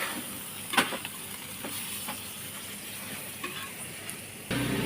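Chicken kottu parotta stirred with gravy on a street-cart griddle, giving a steady soft sizzle with a few sharp metallic scrapes and clinks, alone without talk.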